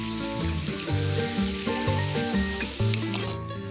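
Butter, freshly made pesto and a splash of pasta water sizzle in a pan, a steady frying hiss running under prominent background music for the whole stretch.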